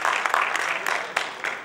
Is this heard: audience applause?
yes